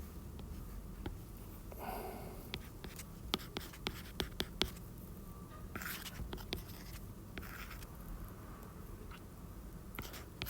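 Pen scratching out an equation by hand on paper, a run of faint short strokes and taps, close and quiet, with no talking.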